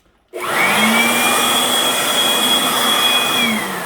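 A wall-mounted air conditioner's motor starts abruptly during cleaning and runs with a loud, steady whirring roar and a faint high whine, holding even for several seconds.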